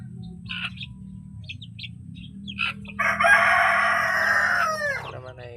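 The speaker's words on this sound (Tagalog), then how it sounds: "Ito na pala yung mga sisiw ng aking mga manok mga ka-viewers." Chickens and their chicks call in a backyard flock: scattered short chirps and peeps, then a loud sustained crow-like call near the end, over a low background hum.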